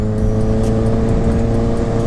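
A Kawasaki Ninja H2 supercharged motorcycle running with its exhaust droning loud and close, a steady dense engine roar holding constant throughout, with faint chirps from the blow-off valve riding over it and no talk.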